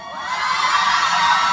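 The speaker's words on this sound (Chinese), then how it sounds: "鼓励，尖叫声。" A crowd of fans screams and cheers loudly at an outdoor fan signing event at a plaza, a sustained high-pitched roar that swells over the short stretch.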